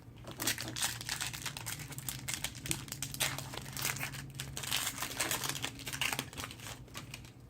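Foil wrapper of a Magic: The Gathering Eldritch Moon booster pack crinkles and tears open in close, continuous rustling with sharp crackles.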